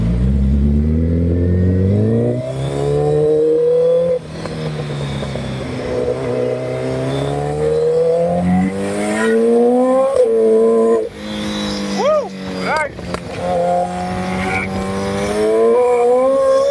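A 2022 Suzuki Hayabusa motorcycle engine revs loudly and steadily while riding, pitch rising and falling through gear changes with a few sharp throttle blips near the end, close and continuous.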